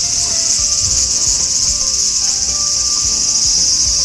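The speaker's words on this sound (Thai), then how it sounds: "เสียงน้องจิ้งหรีดนะร้องกันระงม" Summer crickets in an old historic district of Kanazawa, Japan, chirp loudly and continuously in a dense, shrill chorus with no pauses.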